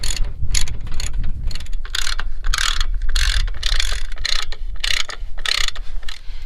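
Ratchet wrench loosening bolts underneath an Onan Quiet Diesel 7500 generator, close rapid clicking strokes repeated in bursts with short pauses between them.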